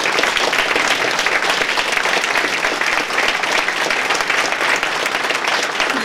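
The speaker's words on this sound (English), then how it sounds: "I want to give them a round of applause" A large audience at a leadership breakfast gives students sustained, dense applause, a loud continuous wash of clapping from many hands that runs unbroken throughout.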